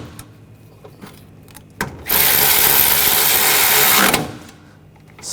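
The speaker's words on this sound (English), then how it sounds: "now tighten these down" Power tool tightening bolts on a radiator and condenser fan assembly of a 2014-2020 Nissan Rogue, one loud two-second whirring burst after a few clicks and knocks.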